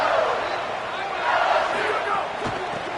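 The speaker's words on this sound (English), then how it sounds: "they are on their feet, yelling, screaming" A stadium crowd in the College Football 27 video game yells and roars continuously, a dense, loud wall of cheering that swells slightly midway.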